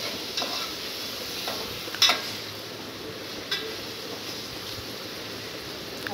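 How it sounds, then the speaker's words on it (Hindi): Mutton being fried and turned in hot oil for badami mutton kaliya, a soft, even sizzle throughout with a few faint clicks and scrapes of the spoon against the pot, heard close up. "ये मैं मटन को डाल दूँगी और उसकी अच्छे से मैं भुनाई कर लूँगी"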